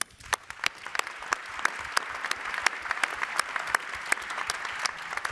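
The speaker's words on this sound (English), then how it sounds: "you deserve an applause here" Audience applause at a medical conference on structural heart care: sustained clapping from a crowd, steady and dense with sharp individual claps standing out, lasting throughout at moderate loudness.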